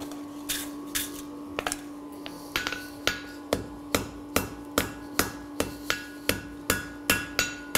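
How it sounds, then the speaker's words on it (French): A very light ball-peen hammer strikes metal while forging a horse sculpture, starting with scattered taps and settling into a steady, fast rhythm of sharp ringing blows, close and clear with no talk. "je prends mon marteau très léger, qui a un côté boule"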